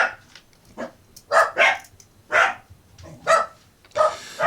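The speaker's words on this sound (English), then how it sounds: "And the dog's kicking off again." A dog barks repeatedly nearby, about six loud, separate barks in an uneven rhythm with short pauses between them, and no voices.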